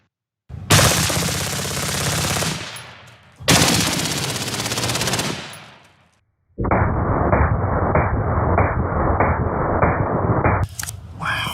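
Loud, sustained gunfire from a standard pistol and an AR-15 in a ballistic damage demonstration: two long roaring bursts, then a steady rapid volley of repeated shots, with no talking.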